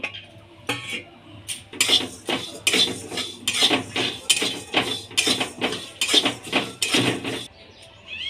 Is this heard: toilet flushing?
no